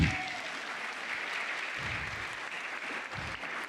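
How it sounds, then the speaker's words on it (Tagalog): A church congregation at an afternoon camp service applauds loudly, a dense, steady wash of clapping from many hands, sustained throughout. "Isa nga pong malakas na palakpak."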